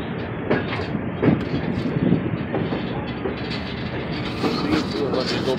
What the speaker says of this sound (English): It is the Boone Scenic Valley Railroad.